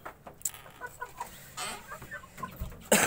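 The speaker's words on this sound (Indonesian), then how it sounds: "pelung ori nih, betina ya" Pelung hen, a purebred female chicken in an outdoor coop, gives short irregular clucks close by, with other fowl faintly in the background and a sharper burst at the end.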